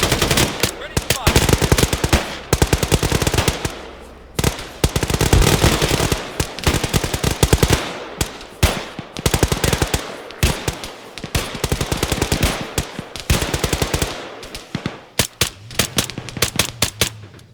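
Rapid machine gun fire in the military shooter ArmA 3, loud repeated bursts of sharp close shots with brief gaps between strings, and a voice briefly heard over the gunfire.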